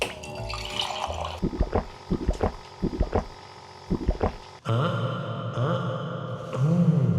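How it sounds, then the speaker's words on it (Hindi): RO-filtered water pours into a bottle, a close, steady gurgling stream that rises in pitch toward the end as the bottle fills, interrupted by a few knocks and handling sounds midway. "बोतल में भर लिया मैंने"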